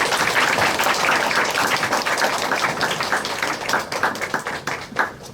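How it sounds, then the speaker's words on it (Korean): A church audience claps to welcome a guest lecturer at a special talk, sustained dense applause that stays loud and even before tapering slightly at the end, with no talk over it. "우리 박수로 환영해 주시기 바랍니다"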